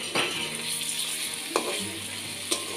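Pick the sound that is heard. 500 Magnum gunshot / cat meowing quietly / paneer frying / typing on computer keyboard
paneer frying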